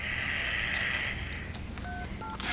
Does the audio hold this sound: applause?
no